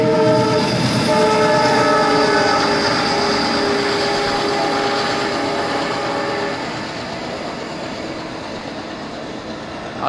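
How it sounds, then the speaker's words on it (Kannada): A passing train sounds a loud, sustained horn for several seconds over the heavy rumble of the cars, and the horn then eases off as the rolling noise continues. "ಸರ್ ನಿಮ್ಮ ಟ್ರೈನ್ ಸ್ವಲ್ಪ ಕಷ್ಟ ಕೊಡ್ತಿದೆ, ಸ್ವಲ್ಪ ಹಾರ್ನ್ ಕಡಿಮೆ ಮಾಡಿಸಿ"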